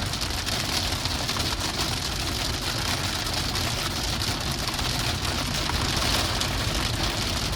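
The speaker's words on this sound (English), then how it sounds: "That's the wall of rain." Heavy storm rain pounds a Tesla Cybertruck as it drives, a dense, steady roar of drops on the body with engine-like road rumble beneath, loud and unbroken throughout with no talking.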